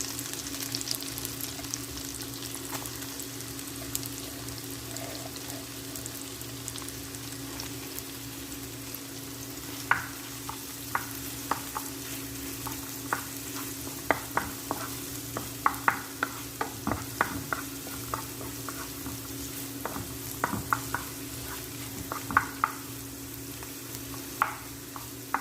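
Chopped onion sautéing in a pan as the base for bangus sisig, a steady close sizzle and hiss with scattered sharper pops and crackles from about ten seconds on, with no talking.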